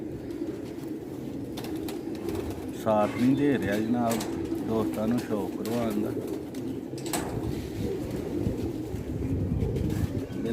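Black-faced pigeons coo in a rooftop loft, a series of soft, throaty rolling calls from close by, repeating through the middle of the scene, with someone talking over them and faint background noise.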